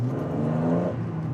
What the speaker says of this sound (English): Bit of revs, drop the clutch